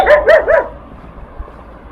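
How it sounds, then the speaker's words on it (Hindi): A dog barks three quick, loud times at close range on a snowy street in Irkutsk, Siberia, and then goes quiet, leaving faint background noise. "और यहाँ पे किसी का कुत्ता भौंक रहा है मुझ पे।"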